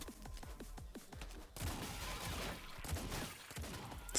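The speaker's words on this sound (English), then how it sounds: "So many spread shots." Bursts of rapid spread-shot gunfire in the fast-paced bullet-dodging game Autogun Heroes, a quick stuttering volley giving way to a dense, continuous wash of game shooting.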